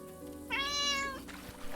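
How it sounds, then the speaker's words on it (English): A talkative pet cat lets out a single drawn-out meow, close and clear over a quiet indoor background with faint game sounds. "It's my cat."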